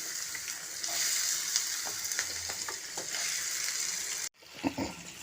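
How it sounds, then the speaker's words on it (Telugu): Potatoes are dropped into hot oil tempering with curry leaves, giving a loud, steady sizzle close by. Near the end there is a sudden brief cut in the sound, then some clattery stirring as the frying continues. "ఇప్పుడు డైరెక్ట్గా మనం ఆలు వేసేస్తాం"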